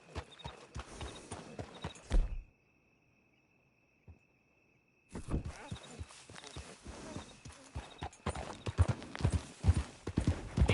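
Horse hooves clip-clop in Red Dead Redemption 2, with crickets chirping in the background. The steady, fairly close hoofbeats stop for a few seconds of near silence, then resume.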